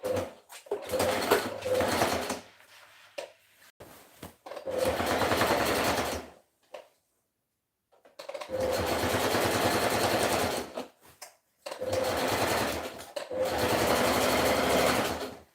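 Up close, a sewing machine stitches a dress with a 1-inch seam allowance, running in five or six loud bursts of fast whirring broken by brief silences.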